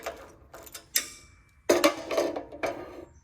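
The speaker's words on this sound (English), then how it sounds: "These bolts come out." Bolts being backed out of the carburetor on a Snapper riding mower with a 5/16 wrench, making close mechanical clicks and ratcheting ticks in short bursts separated by brief pauses.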